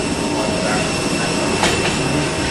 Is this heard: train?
yes